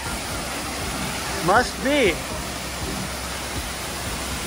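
Etiwanda Falls pours down with a constant broadband rush of falling water, steady and enveloping, while a person briefly speaks partway through.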